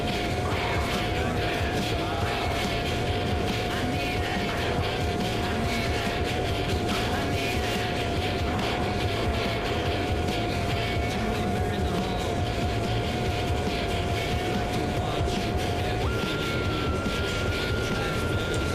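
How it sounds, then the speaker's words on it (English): A jet engine running in full afterburner in a flight simulator game, a constant loud roar with a steady whine that shifts pitch upward near the end, with no talking. "We're just blazing through the fuel. We're in full afterburner. Have been since takeoff."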